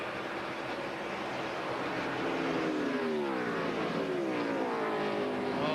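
Stock cars at the 2002 Pennsylvania 500 at Pocono roar out of a corner, a loud sustained engine drone with rising and falling pitch as several cars pass close by.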